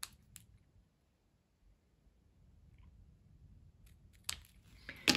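Scissors snip through a paper craft tag, giving a few sharp crisp cuts close by against near silence, with a final louder snip at the end.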